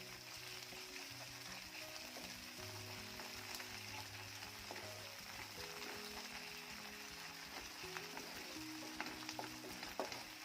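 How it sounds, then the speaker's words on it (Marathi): Ginger-garlic paste sautés with softened tomato in a pan for an okra dish, a faint, even sizzle with occasional light stirring taps under quiet background music. "पेस्ट देखील छान परतून घ्यायची आहे।"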